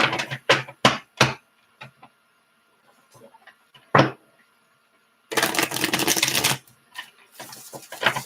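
Tarot cards are shuffled in quick riffling bursts, with sharp taps and flicks in between and a longer riffle near the end.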